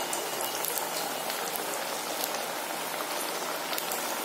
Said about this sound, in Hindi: इसलिए आप इसको मीडियम फ्लेम पे ही टिक्किया को फ्राई करें।